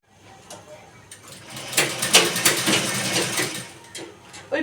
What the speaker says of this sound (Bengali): ওই পয়লা বৈশাখে যে জামাগুলো আছে না আমাদের, একটু করে মেশিনে সেলাই করে নিচ্ছি